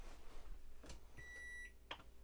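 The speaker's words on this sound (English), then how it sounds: "Wait for the beeps." An inverter starting up gives a short series of electronic beeps, steady high tones held for a moment, followed by a brief chirp, over a low background hum.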